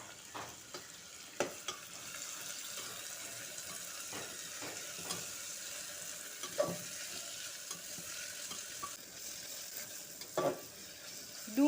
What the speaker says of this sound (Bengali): তেল গরম হয়ে গেছে দিয়ে দিচ্ছি কুচনো পেঁয়াজ